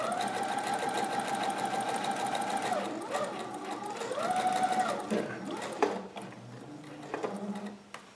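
A sewing machine stitches seams on a Simplicity 3852 Aloha shirt, whirring steadily and loudly with a droning mechanical hum that briefly dips and resumes, then slows into a few clunks and taps as it stops.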